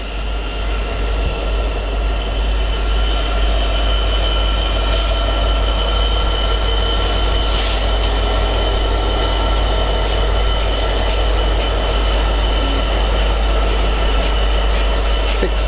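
Class 66 freight locomotive 66749 passes on the East Coast Main Line near Doncaster or Peterborough with a loud, continuous rumble of wagons and a low engine drone, while high wheel squeals rise briefly and intermittently.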